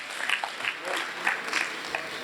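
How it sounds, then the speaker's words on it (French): Applause rises from the crowd at an official installation ceremony in Senegal as a national coordinator is introduced, with scattered uneven claps and some voices mixed in, moderately loud and fairly short. "Abdoulaye Diagne, que je vous demande d'applaudir."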